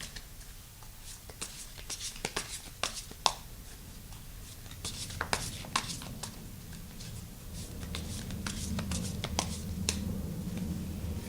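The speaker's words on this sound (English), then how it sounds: "Just a little bit more traditional shuffling." Soft papery flicks and riffles of tarot cards being shuffled, irregular taps and brushes close by, with a low murmur underneath.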